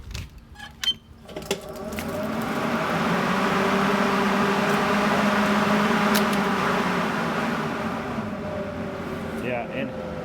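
Kobalt Greenworks 80V cordless electric lawn mower fitted with Cutlass replaceable blades spins up after a few clicks into a steady whirring hum with a whooshing blade drone, close and continuous.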